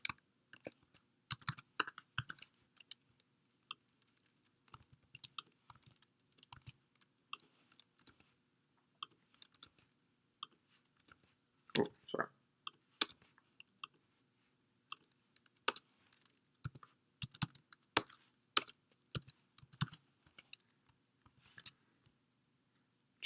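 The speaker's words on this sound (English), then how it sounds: "I'm just going to type this out and then I'll explain." Python code is typed on a computer keyboard in quiet, irregular bursts of sharp key clicks with brief pauses, close and fairly soft.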